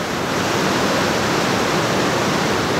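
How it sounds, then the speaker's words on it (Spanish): Waterfall near Nanaimo roaring nearby as a loud, steady, broad rush of falling water filling the whole moment without a break. "ni siquiera sé si se va a escuchar correctamente por el ruido del agua"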